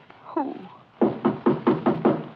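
A knock on a cabin door, staged as a radio drama effect: six firm, evenly spaced raps close to the microphone, following a brief murmur of voice.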